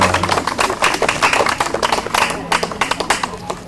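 A crowd claps hands at a Buddhist Kathina festival gathering, with steady, busy applause throughout and irregular individual claps standing out, fairly close, with faint voices mixed in.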